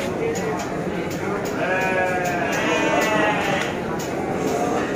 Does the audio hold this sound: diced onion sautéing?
no